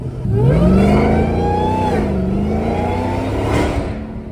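A Dodge Hellcat SRT engine accelerates hard at night, heard close from inside the car. It rises in a loud, rising roar through one gear, eases briefly, then pulls again, with no voices.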